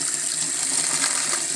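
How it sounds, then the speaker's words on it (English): Water pours steadily from a tap, a continuous hiss and splash with no voices, holding even throughout. "Put the hot water on."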